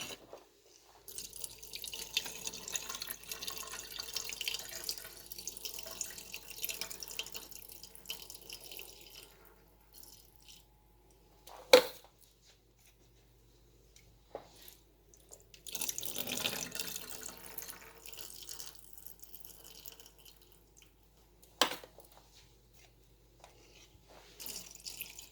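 Liquid drains from several opened food cans into a sink. Water runs and trickles for stretches, stops between cans, and a couple of sharp clunks from metal cans knock against the basin, with dripping in the pauses.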